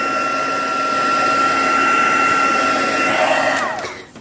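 A heat dryer blows a steady, loud whirring drone up close while drying Distress Oxide spray paint, then winds down and cuts off near the end.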